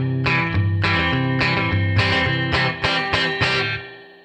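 Electric guitar through a Headrush spring reverb, type A, plays a run of plucked, twangy notes, each followed by a bouncy, boingy spring splash that lingers and fades out at the end.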